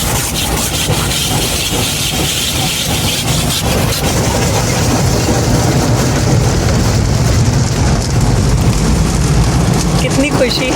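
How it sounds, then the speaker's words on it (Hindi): Steady, dense hiss of heavy rain pouring continuously in Tampa, loud and close, with faint voices underneath. "बारिश।"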